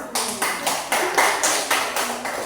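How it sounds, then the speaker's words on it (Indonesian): Students in a classroom clapping together: a rhythmic group clap in about nine even beats, close and fairly loud, with no talk over it. "Oke, tepuk tangan dulu."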